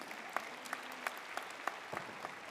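Scattered hand claps from a small audience at a university convocation ceremony, sparse and uneven rather than a full roar, heard at a moderate distance.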